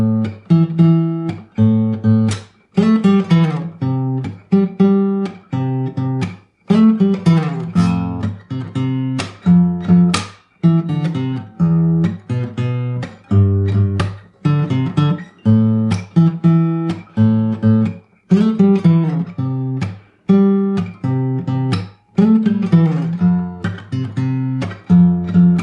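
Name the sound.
Latin-style bass guitar groove with percussive fingerstyle and fill riffs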